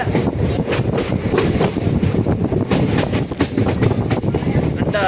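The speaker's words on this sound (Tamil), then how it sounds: "நம்மளுடைய ட்ரெயின் வந்து முதல் பிளாட்ஃபாரத்தில் இன்னும் போயிட்டு இருக்குன்னு சொல்கிறாங்க" Train running past a railway platform on a journey between Kodumudi and Trichy via Karur, with steady loud rumble and clickety-clack of wheels on rails continuing throughout, close and dense.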